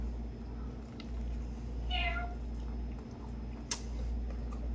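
A single short, clear meow from a cat in a home kitchen stands out over a low background hum, followed by a faint tick.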